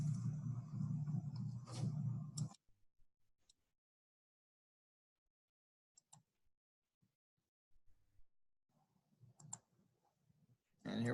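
Computer mouse clicks at a desk, a few sparse, faint clicks spread across near silence, with brief bursts of other noise at the start and end.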